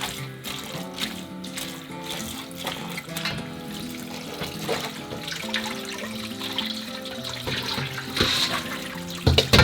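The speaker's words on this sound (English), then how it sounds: "So we're rinsing the salt out, and then we're going to drain it." Salted zucchini rinsed in a bowl under running tap water, a continuous close splashing and trickling with shifting sloshes as the pieces are stirred, and no one speaking.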